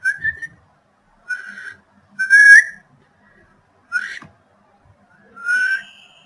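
A person whistles five short tones with pauses between, some rising or wavering in pitch, close and clear in an otherwise quiet room.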